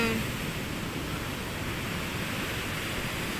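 Large ocean waves at high tide rolling in, a constant broad roar of surf at an even loudness with no break and no voices.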